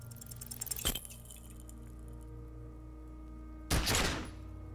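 Gunshot in the video game Disco Elysium, two sharp bursts with a metallic ring, one early and one later, each decaying over a steady low background hum with no talk.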